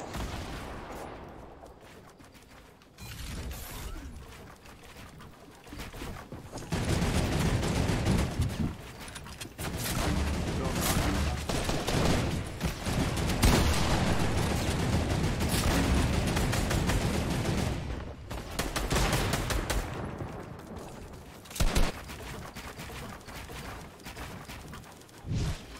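Assault rifle fire in a Fortnite match, sounding as sustained loud bursts of rapid shots with short pauses and a sharp crack near the end, no talk over it.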